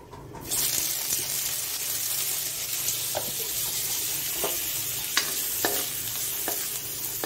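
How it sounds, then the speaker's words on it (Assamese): Onions frying in fish oil give off a steady, close sizzle, with a few sharp scrapes and clicks of stirring scattered through it and no talk. "তেল দি দিলোঁ। এতিয়া পিঁয়াজ দি দিম অলপ।"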